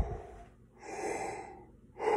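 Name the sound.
deep breath in before playing low brass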